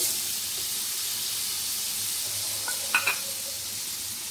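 Tomatoes sizzle in a hot pan for aloo methi, a steady broadband frying hiss with a few soft stirring clicks near the end, no voices.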